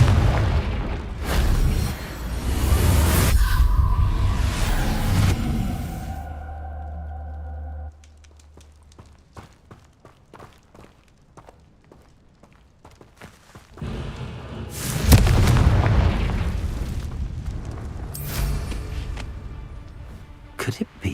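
Fire-blast spell exploding in the video game Hogwarts Legacy, a loud booming burst with crackling debris, followed by a quieter stretch of scattered pops and another heavy blast near the end.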